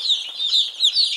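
Baby chicks, sexed pullets on a farm, peep in rapid high chirps close by, several overlapping calls in a quick steady rhythm.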